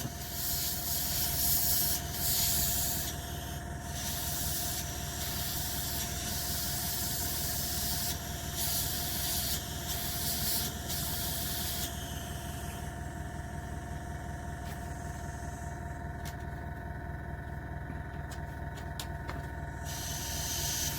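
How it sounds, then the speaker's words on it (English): A 0.2 mm nozzle Infinity CR Plus airbrush sprays paint onto an Airfix Sea King HU.5 model kit, producing a continuous close airy hiss that stops and starts in short bursts over a steady compressor drone. "Infinity CR Plus Gilades edition airbrush, so I've got lots of flexibility, accuracy with it."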